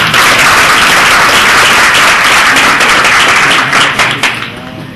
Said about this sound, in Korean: 큰 박수로 환영해 주시면 감사합니다.